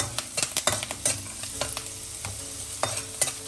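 Green chillies sauté in a pan for masala lemon rice: a lively crackling sizzle with a quick burst of spatula scrapes and knocks, then scattered stirs, close and clear, no talking.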